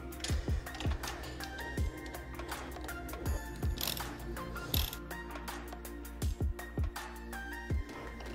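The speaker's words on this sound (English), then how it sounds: "half inch wrench." A half-inch wrench ratchets while tightening the rear brake pedal on a Harley motorcycle, giving close, crisp clicks in short irregular bursts over a low steady hum.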